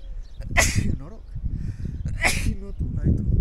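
Two sharp sneezes burst out about two seconds apart, close and loud, with a person's voice and breathing around them.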